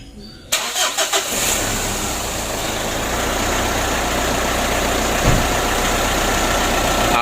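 A car engine cranks after a light service, catches within a second with a few sputtering bursts, and settles into a steady, close, even idle.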